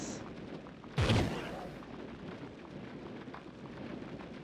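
A single sudden bomb blast in the video game Trove bursts out loud and broad, then settles back into a steady bed of game noise.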